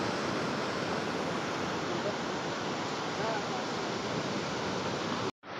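Sea waves washing up on Palolem Beach in Goa, a loud, steady rushing wash of surf that holds evenly throughout before cutting off abruptly near the end.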